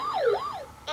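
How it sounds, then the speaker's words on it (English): Electronic ambulance siren from a VTech Turn and Learn Driver toy, a single quick wailing sweep up and down, loud and close, ending in a brief bright tone. "Ambulance."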